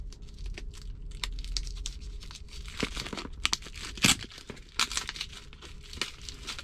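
Packaging of a CarPlay/Android Auto adapter box for a Tesla being opened, with soft crinkling, tearing and scattered sharp plastic crackles, fairly quiet and close, no talking.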